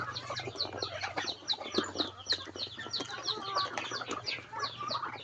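Farm chickens cluck and chirp steadily at feeding time, a busy, fairly faint chorus of short calls under a low steady hum, with no talking.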